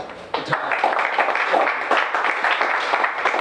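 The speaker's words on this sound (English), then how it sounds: "one more round of applause" An audience at a 1 Million Cups startup gathering gives a round of applause, a steady wash of many hands clapping that starts abruptly and holds evenly throughout.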